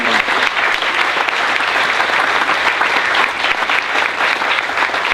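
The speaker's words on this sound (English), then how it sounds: "give a big round of applause to all of you who have donated and taken time to be here today" A large audience claps in a sustained, dense round of applause at a charity donor event, steady and full throughout with no speech over it.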